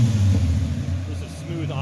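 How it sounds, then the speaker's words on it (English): Turbocharged Nissan Xterra-based dune buggy engine idling smoothly after a new injector was fitted, a steady low rumble close by with a faint mechanical hum, a voice talking over it. "Just a smooth idle"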